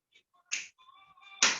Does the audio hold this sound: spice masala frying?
no